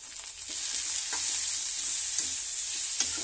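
Green chili, beetroot and carrot being stirred in a hot pan for carrot beetroot rice, a steady close frying sizzle with scraping stir sounds and a few soft clicks, no talking.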